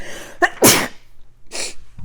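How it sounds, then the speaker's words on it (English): A sharp inhale leads into one loud, explosive sneeze, followed by a softer breathy burst a moment later, up close with no talking. "I'm going to sneeze."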